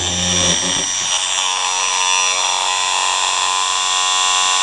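A fast, high-pitched electric whine from a simple homemade electric motor with a reed switch, running on 6 volts at over 6,000 RPM, steady and close throughout with dense buzzing harmonics.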